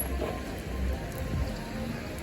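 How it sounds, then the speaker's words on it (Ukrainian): Steady heavy downpour patters on a surface, an even wash of drops with no break and no voices. "Ось такий дощик."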